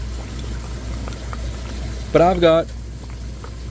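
Air bubbles fizz and burble steadily in a killifish breeding aquarium planted with Java moss, a low continuous bubbling under a brief spoken phrase.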